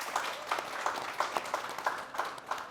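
A studio audience at a talk show claps for a band, a steady, fairly rhythmic patter of many hands striking roughly in time, heard moderately loud with a soft room wash and no voices.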